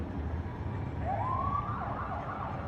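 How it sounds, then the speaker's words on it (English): A distant siren wails in one rising-and-falling sweep over a steady bed of street and traffic noise during a WNBA parade with buses. "You can hear the sirens behind them."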